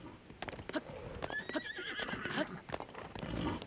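Horses in a video game whinny repeatedly with shrill neighs, while hoof clip-clops and clattering thumps come and go underneath.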